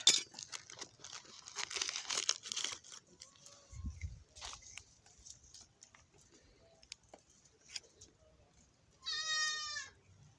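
Young goats on a farm, with one short, clear, wavering bleat near the end, following soft rustling and crinkling sounds in a quiet setting.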